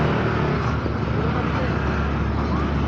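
A jeep climbs a rough road near a river and nature camp, its engine noise steady and close throughout with a continuous rumble, and voices talk over it.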